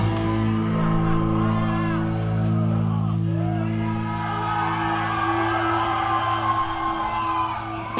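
A large crowd cheers and whoops loudly over a steady musical backdrop, voices shouting throughout without letting up.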